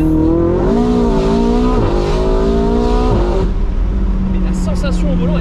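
A Ferrari 488 GTB tuned to 800 hp accelerates hard, its engine note rising through the revs with quick gear shifts, loud and close, while someone talks over it.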